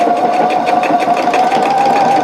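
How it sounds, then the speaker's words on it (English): A home sewing machine runs a fast, steady automatic reinforcing stitch through jeans denim, a loud close whirring hum with a rapid even needle patter and no speech. "So my machine does an automatic reinforcing stitch"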